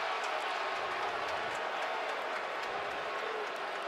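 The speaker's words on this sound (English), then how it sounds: "The crowd's roaring, but it doesn't matter." Stadium crowd at the Fiesta Bowl college football game between Baylor and Central Florida, a dense continuous roar heard from within the stands, steady and distant for the whole stretch.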